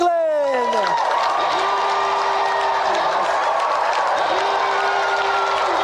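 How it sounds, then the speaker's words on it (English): Studio audience applause with whoops and cheers on a retro TV gaming show set, steady and loud throughout, with a host's voice and musical tones sliding over the crowd. "let's give another round of applause for Clive Bordon and Richard Wling"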